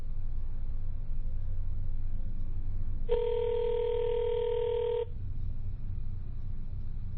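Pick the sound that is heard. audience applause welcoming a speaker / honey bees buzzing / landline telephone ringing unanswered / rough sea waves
landline telephone ringing unanswered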